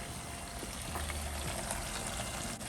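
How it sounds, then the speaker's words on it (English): A pump circulates water and coolant through the engine block of a boxy old Chevy during a cold start, giving a steady, continuous rushing hiss that stays even throughout with no talk over it. "Well, you can hear the pump working."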